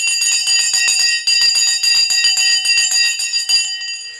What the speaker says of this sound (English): You two can ring the Sensei bell in 5, 4, 3, 2